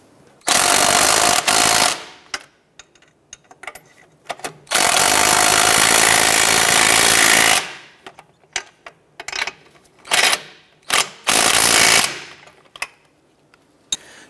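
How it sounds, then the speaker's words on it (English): A power tool snugs down the strut assembly nuts on a 2006-2013 Chevrolet Impala, firing in loud, rattling bursts: two long runs followed by a series of shorter, choppy pulses separated by quiet gaps. "let's go ahead and snug these nuts down"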